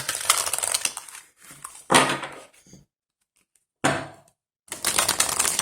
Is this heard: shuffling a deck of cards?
yes